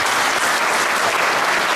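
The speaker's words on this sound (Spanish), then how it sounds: "Señor, un aplauso" Applause from an audience at a celebration marking the tenth anniversary of a Chinese business federation in Chile, a brief, dense burst of clapping that is steady and full from start to finish.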